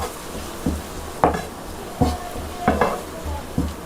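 Tomato being stirred into a sizzling egg masala in a pan, with several distinct scraping spoon strokes at irregular intervals over a steady background frying hiss; no talking.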